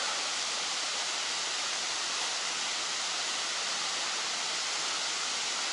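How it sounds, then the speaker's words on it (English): Wide Kravica waterfalls rush in a steady, loud, broadband roar that stays constant throughout, with no voices over it. "Wow, check out these spectacular waterfalls."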